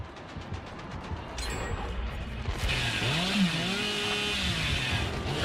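A chainsaw revs in the horror game Dead by Daylight during a tournament match, a mechanical whirring drone with rising and falling engine pitch sweeps, close and loud, with no talk over it.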